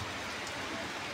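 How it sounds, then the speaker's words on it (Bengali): Sun-shower rain falling under harsh bright sunshine outdoors, a steady close hiss of drops through the whole short stretch with no voices. "এদিক দিয়ে বৃষ্টি হচ্ছে"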